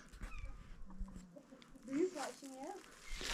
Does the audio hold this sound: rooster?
yes